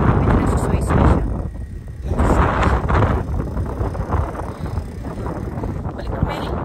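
Strong wind buffets loudly in gusting surges, rumbling heavily against the microphone outdoors while travelling in Armenia, with a voice faintly beneath.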